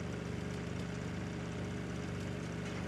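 A helicopter motor in the video game Rust hums steadily without a break, a low buzzing sound like a motorcycle at moderate loudness with no voices.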